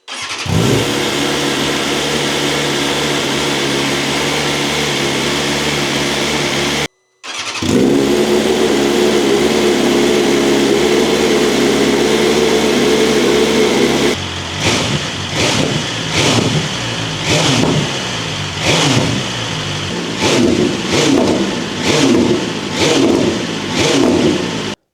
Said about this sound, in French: Là, je peux démarrer la moto.